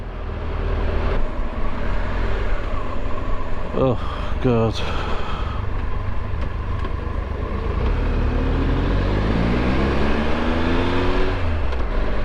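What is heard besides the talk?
large car driving past on the road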